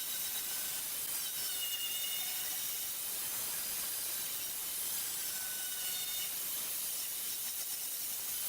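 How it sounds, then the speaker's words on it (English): A saw rasp scrapes steadily back and forth across a wooden neck during a custom guitar build, a close, continuous, bright rasping hiss with a steady level and no talking. "So I'm coming in with a saw rasp"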